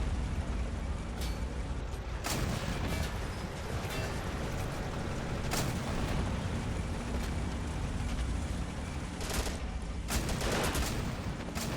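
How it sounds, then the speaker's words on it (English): Gunfire in the World War strategy game Men of War: Assault Squad 2, infantry shooting from sand dunes: a continuous roar of battle with several sharp, loud shot bursts scattered through it, and no talk. "They still have infantry in the sand dunes that are shooting at us."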